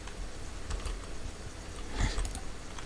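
Keyboard typing in the video game Inner Voices, scattered soft key clicks with a denser burst of presses near the end, no voices.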